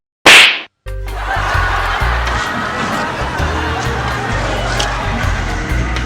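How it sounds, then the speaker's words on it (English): A single sharp, loud slap across the face cracks out alone near the start, then gives way to a rowdy crowd with cheering and laughter that carries on to the end. "And boom! Someone slap you across the face."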